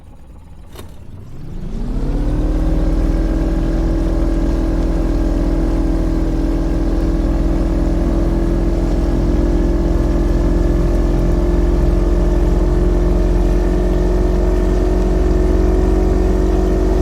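Motorboat engine in the Fishing Planet video game at Emerald Lake, New York, starting up and settling into a loud, steady drone that holds unchanged without talk.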